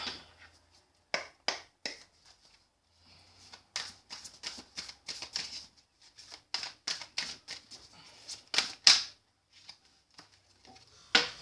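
A tarot deck cut and shuffled by hand, giving a run of sharp, crisp card snaps and riffles in irregular bursts, close and fairly quiet, with no talking.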